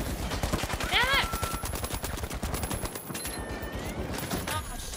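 Rapid gunfire in The Finals, a loud, steady stream of automatic shots hammering through the whole stretch, with a voice shouting briefly over the shooting.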